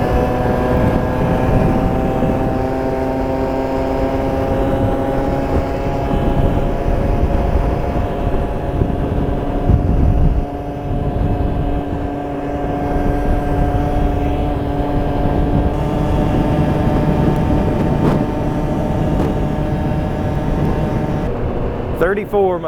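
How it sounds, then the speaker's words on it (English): A 50cc scooter with what may be a stock clutch, on a top speed run, its small engine droning steadily and loudly with a constant high buzzing tone, mixed with wind and road noise. "We're gonna go for a top speed run, see if it changes."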